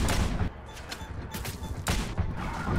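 Gunfire from the video game WANTED: Weapons of Fate: loud bursts of shots in quick succession, with a heavy volley at the start and another near the end, punchy and close.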